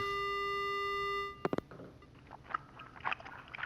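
A steady electronic telephone dial tone in the video game Spirit Hunter: Death Mark hums for about a second, then cuts off with a few sharp clicks, followed by faint crunching and smacking noises.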